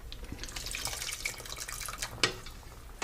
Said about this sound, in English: Keep adding water. Don't be afraid of adding water.